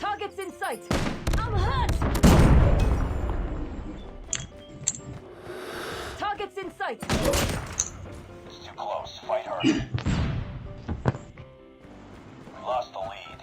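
Pistol and other gunfire in Call of Duty Mobile, loud sharp cracks and thuds in irregular bursts with crashes, while a player talks throughout.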